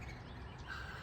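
A bluebird gives a faint, brief chirp near its nest outdoors, a single thin call rising softly above a quiet background hum.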